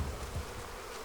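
Honey bees buzzing around Flow Hive frames, a soft steady hum heard close by for about a second.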